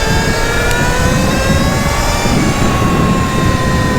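A 72-volt Sur Ron electric motorcycle out on a ride, producing a loud, steady high-pitched motor whine layered with continuous rushing wind and road noise, with no talking.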